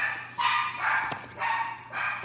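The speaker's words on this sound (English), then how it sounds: "sorry, those are my dogs" Several dogs bark in repeated bursts indoors, sounding moderately close, with a steady low hum underneath.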